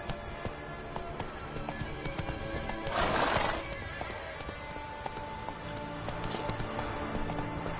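Roach the horse galloping in The Witcher 3, with steady hoofbeats and a loud whinny partway through, all over a constant game soundscape.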